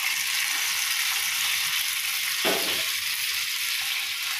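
Cashews and almonds being fried in ghee for a tempering, giving a steady close hiss of sizzling with a brief stir or drop at midpoint, no voices.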